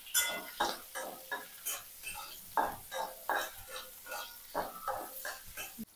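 Capsicum sautéed in oil in a pan produces soft, rhythmic scraping and clinking as it is stirred, about one stroke every half second, faint and close.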